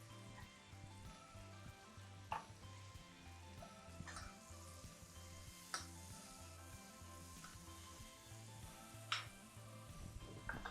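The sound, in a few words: cordyceps mushrooms frying in a pan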